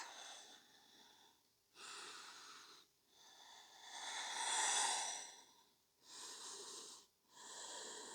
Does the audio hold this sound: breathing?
yes